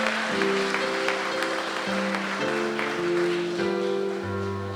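An audience applauds the 2022 Queen of the Fair contestants, steady clapping heard over sustained organ-like musical tones that change chords throughout.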